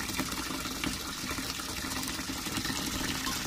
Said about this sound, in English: So I'm just finishing filling up my sink here, and I have hot water.